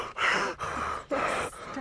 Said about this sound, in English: Take a deep breath so I'm not breathing into the mic like a bear.